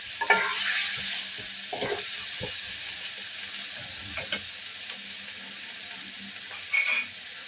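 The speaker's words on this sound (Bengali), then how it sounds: "এটা ভালো করে কষিয়ে নিতে হবে।" Ground pepper and a home-ground coriander-cumin paste sautéing in a pan, with a gentle sizzle under intermittent scraping stirs and a brief louder burst near the end, close and without talk.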